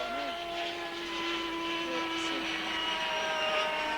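A model aircraft engine drones steadily in flight at a club airfield, a continuous high-pitched whine holding level throughout with brief pitch sweeps, distant and unbroken.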